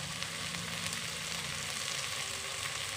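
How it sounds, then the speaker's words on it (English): Chicken and rice fry for khichdi in an electric pressure cooker, giving a steady, close sizzle that runs without a break and with no talking. "I've been frying this for about a minute."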